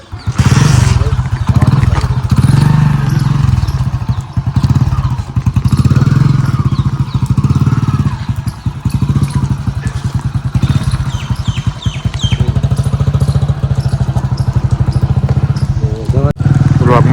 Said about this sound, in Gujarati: ચાલુ કરો બાઈક આપણે